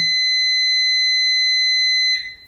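A kitchen timer beeps alone in one long, loud, steady electronic tone that cuts off abruptly near the end.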